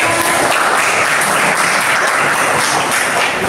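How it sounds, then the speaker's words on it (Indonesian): Loud, dense clapping from a group of students in a classroom, continuous and close, filling the whole stretch without pause. "Tepuk tangan dong yang sudah jawab."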